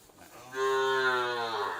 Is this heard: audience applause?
no